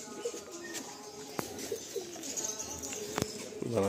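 Flying pigeons coo at close range in low, repeated calls, broken by a couple of sharp clicks and a brief rustle near the end.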